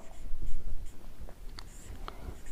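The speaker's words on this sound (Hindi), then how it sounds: "लिखता हूँ" Pen or chalk writing during a Hindi chemistry lesson on valency: a few scratchy, intermittent strokes with short pauses, close and fairly quiet, with no talking.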